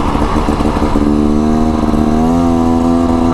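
A 2024 Beta Xtrainer two-stroke dirt bike on its first break-in ride, its engine loud and close, droning steadily and then rising in pitch as it accelerates.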